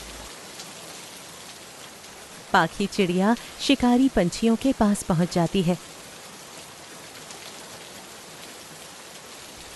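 Steady heavy rain hisses throughout a Hindi jungle cartoon about a bird in the rainy season. A narrator speaks briefly over the downpour midway.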